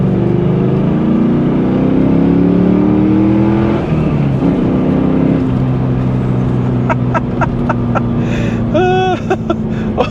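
Steady low engine drone from a 2000 Pontiac Trans Am WS6 cruising at about 55 mph and 1,200 rpm, heard from inside the car as a continuous hum that drifts slightly in pitch, with brief clicks and a chirping tone near the end.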